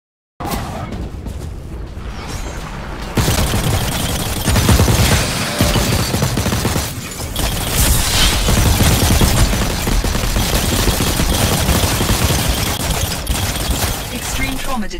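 Gunfire in The Cycle, a PC shooter game, rattling in dense sustained bursts with heavy booms close by, running almost continuously under game voice alerts.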